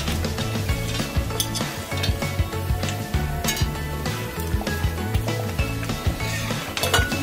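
Sooji halwa with sugar and dry fruits is stirred in a metal pot, the spoon scraping and clinking against the pot in a steady repeating rhythm under a soft sizzle, close and alone without talk.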